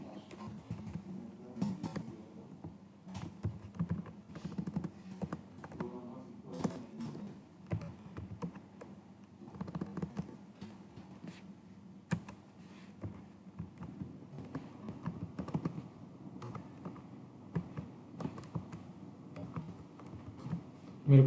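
Fingers type on a computer keyboard while entering names and marks into Notepad, producing quiet, irregular bursts of key clicks and taps with short pauses, and no talking.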